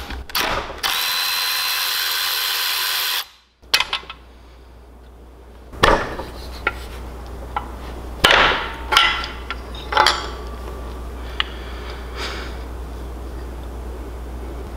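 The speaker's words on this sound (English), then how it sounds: "We're going to use a 10 to break these rod bolts loose." A 10 mm wrench breaks loose the connecting rod bolts on a 440cc engine build. A loud, steady whirring tool burst gives way to a short gap, then scattered close metallic clanks and knocks.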